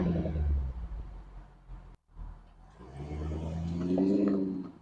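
A 2024 Jaguar F-Type R V8 on the move, its low engine rumble swelling and briefly dropping out before building again into a rising, revving pull, heard from close by with no talk.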